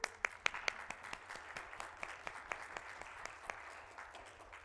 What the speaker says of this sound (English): Let's all applaud Muhammad.